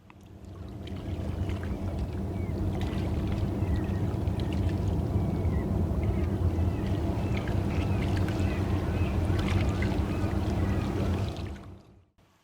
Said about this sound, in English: The following is an example from the archive, recorded harbourside in Stanley Park in